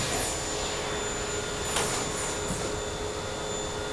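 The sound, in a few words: screen printing conveyor dryer running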